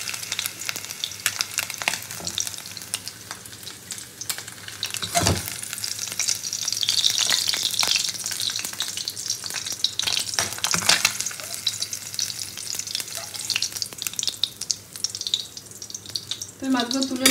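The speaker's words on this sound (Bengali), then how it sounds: "খুব বেশি কড়া করে কিন্তু মাছগুলো আমি ভাজবো না, মোটামুটি ভাজবো।" Fish pieces fry in hot oil in a pan, a loud steady sizzle and crackle running throughout with occasional stirring and scraping, and only faint traces of voice.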